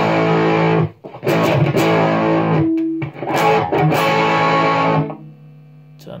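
Electric guitar played through a Boss JB-2 Angry Driver pedal set to its Blues Driver side, with overdriven chords ringing loud and close in several sustained strums, brief gaps between them, and a fading tail.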